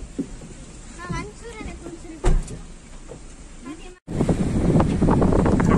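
Wind and surf on a beach by a sea park in Ramanathapuram. A low, steady rush of wind noise runs under voices and brief chirps, then grows into a louder, fuller roar of waves for the last couple of seconds.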